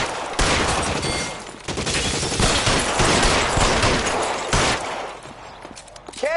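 Dense bursts of gunfire from the video game L.A. Noire crackle almost nonstop, loud and close, with overlapping rapid shots and brief lulls.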